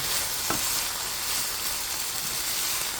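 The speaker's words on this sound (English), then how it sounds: "It's sizzling." Steady broadband sizzle of pork browning in a hot frying pan, continuous and close, with a brief clink near the start.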